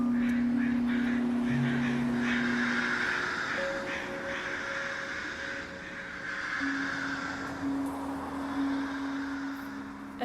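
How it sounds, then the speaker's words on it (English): About a dozen crows perch on overhead power lines, cawing harshly in repeated overlapping bursts above a steady hum of traffic and outdoor noise. "a dozen angry crows, sitting on the power lines above me, conducting a cacophonous aggregation"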